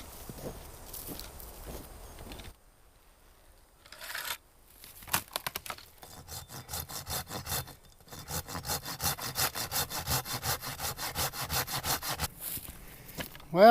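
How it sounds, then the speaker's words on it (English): A hand saw cuts through tree limbs outdoors. After some rustling and a quiet pause, rhythmic back-and-forth rasping strokes start and grow steadier and faster, loud and close, ending in a sharp crack. "Now I'll trim up these limbs, and that can make one of my runners for my bed."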